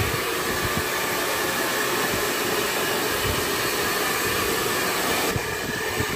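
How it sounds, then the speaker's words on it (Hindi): A hair dryer blows steadily over freshly washed hair during a permanent straightening treatment, a loud continuous airy roar that holds for the whole stretch with no talking. "फिर हम ड्रायर से इसको जो है वो थोड़ा सा सुखा रहे हैं"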